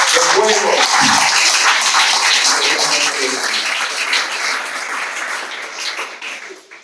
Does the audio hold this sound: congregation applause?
yes